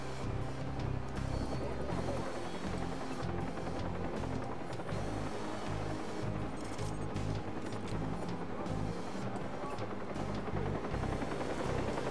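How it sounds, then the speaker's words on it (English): A helicopter in the video game Watch Dogs gives a steady dense rotor roar and hum that fills the whole stretch without pause, with game action noise mixed in. "I'm trying to take down this helicopter."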